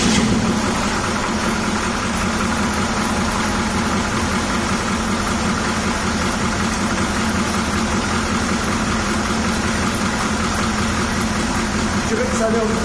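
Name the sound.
Oldsmobile 5.7L diesel V8 engine restarted and running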